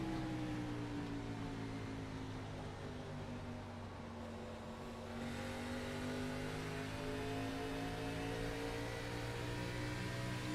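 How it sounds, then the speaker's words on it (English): A race car engine at Phoenix in the NextGen series sits close and steady, its pitch dipping and swelling slightly as the throttle is fed in and out through a corner, with no talk over it. "You can hear how he uses the throttle just in and out, trying to manage it through that corner"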